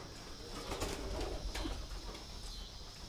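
Pigeons coo steadily inside a loft, a low continuous burble of several birds close by, with no voices.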